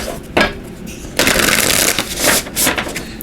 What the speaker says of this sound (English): So let me just shuffle these real quick.